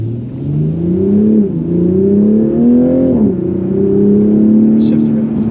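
A Toyota Supra engine revs steadily as the car accelerates, its droning tone climbing in pitch, dipping at a shift, then climbing again, heard from inside the cabin.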